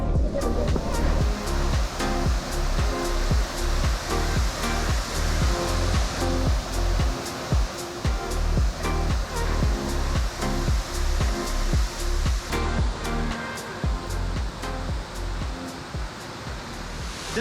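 Erawan Falls in Thailand roars steadily, a dense, loud rush of falling water that holds constant throughout with no voices.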